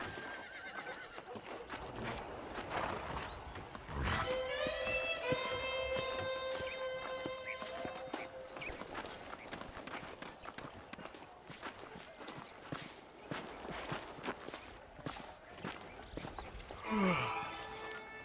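Horse hooves clip-clop on the ground in the western video game Red Dead Redemption, with a horse neighing and whinnying partway through and a snort near the end, over faint ambient game sound.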